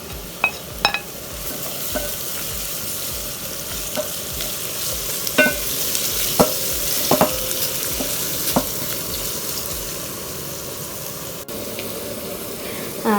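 Green pepper and carrots stir-fry in a pan with mushrooms nearby, a constant sizzle broken by scattered sharp clicks and scrapes of a utensil against the pan, close and fairly loud.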